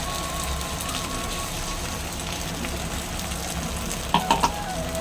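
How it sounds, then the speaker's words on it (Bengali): Poppy seed paste frying in a pan of oil with green chillies, a steady close sizzle that runs throughout, with a few brief clatters near the end. "এবারে পোস্তর পেস্টটা দিয়ে দিই।"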